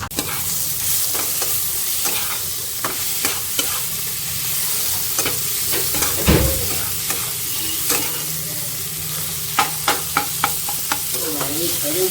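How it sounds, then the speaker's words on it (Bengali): An egg fries in a pan for chowmein, a steady sizzle running throughout with scattered sharp clinks and scrapes of a utensil stirring, close and alone without talk. "এদিকে হচ্ছে চাউমিনের ডিম ভাজা"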